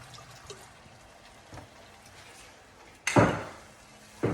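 Portuguese Sauvignon Blanc is splashed into a pan of cooking risotto, giving a sudden loud hissing sizzle that fades over a second. A second burst follows near the end, after quiet stirring sounds.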